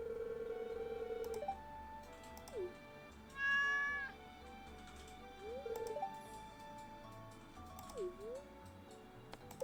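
A cat in the game Playing in the Valley gives several short meows, including a longer wavering one, over a soft steady background of music and clicks.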